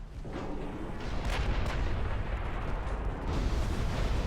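Heavy 19-inch naval gunfire in the warship battle game Ultimate Admiral Dreadnoughts: a sustained rumbling barrage of booming, overlapping blasts, loud and continuous with no talk.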